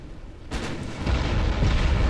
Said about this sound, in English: And now here come the 13-inch guns.